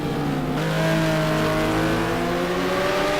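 GT race cars at Spa-Francorchamps in a sim racing game, including a McLaren, produce a loud continuous engine drone with steady rising and falling tones as one car accelerates hard. A faint shift occurs near the start, with no voices.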